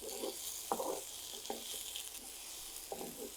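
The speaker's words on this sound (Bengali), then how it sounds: "টমেটোটাকে ভেজে নেব।" Tomato frying in oil in a pan for a chicken dish, quiet crackling sizzle with several brief bursts of stirring and spattering at irregular intervals.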